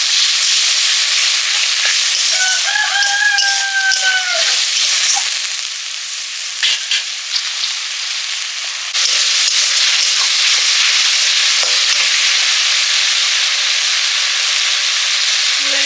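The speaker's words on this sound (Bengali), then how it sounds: "লঙ্কা জল দিয়ে দিলাম" Chili water hits a hot frying pan and bursts into a loud, close, roaring sizzle that briefly eases and then surges back, with a few faint clinks of utensils.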